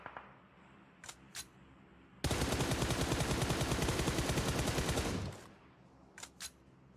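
Automatic gunfire in PUBG Mobile: one long, loud spray of rapid shots lasting about three seconds. A few short, sharp bursts and clicks come before it and after it.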